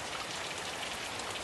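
Rain falls steadily on a vegetable garden planted with lettuces, a soft even hiss of drops spattering on the ground and leaves, fairly quiet, with no voices.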